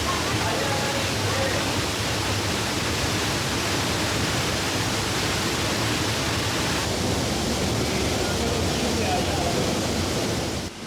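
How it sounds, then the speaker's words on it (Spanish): A waterfall inside a cave in the Amazon, a dense, continuous roar of falling water that stays loud and unbroken from start to finish. "ahí hay una cascada impresionante"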